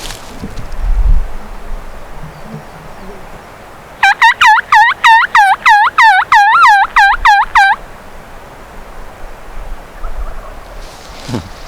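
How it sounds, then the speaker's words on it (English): A loud, close wild turkey gobble rattles out in a quick string of about a dozen notes, with quiet outdoor ambience before and after. "I see his head shake, and then like literally a second later, I hear the gobble"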